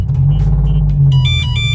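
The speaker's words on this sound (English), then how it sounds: "So let's start the car." An Alfa Romeo Giulia Quadrifoglio starts up after its battery was charged and disconnected overnight, a deep engine rumble swelling briefly as it catches, heard close and alone.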